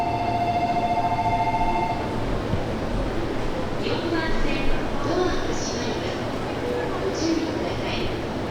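A Yamanote line train pulls in at a Tokyo station platform with a steady rumble throughout, opening with a brief electronic chime and followed by a public-address voice speaking over the noise.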